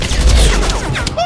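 Heavy gunfire in the video game Tales from the Borderlands, a dense, loud, continuous burst of rapid shots with booming low end, short and unbroken.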